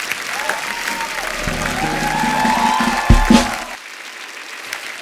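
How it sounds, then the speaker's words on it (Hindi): A crowd bursts into sustained applause, clapping loudly for several seconds with a few cheers mixed in before it starts to fade. "एक बार जोरदार तालियां हो जाए"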